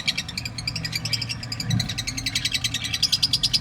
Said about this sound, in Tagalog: Ano ba itong ibon na to?